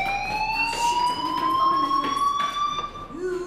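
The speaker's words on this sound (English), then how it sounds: "Hey, do you hear that fire alarm?" Fire alarm in the Life Is Strange video game, a steady high electronic tone that rises slightly in pitch and sounds continuously and loudly throughout, with faint game ambience underneath.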